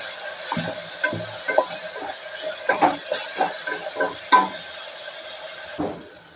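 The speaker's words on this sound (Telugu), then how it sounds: "పచ్చి వాసన పోయేదాకా ఫ్రై చేసుకోవాలి." Ginger garlic paste with turmeric fries in a pan, a soft steady sizzle broken by a series of stirring scrapes and clinks, close and fairly loud, with no one talking.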